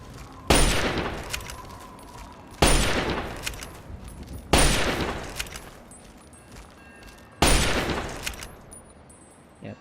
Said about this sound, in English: Yeah, backwater rifle's pretty powerful.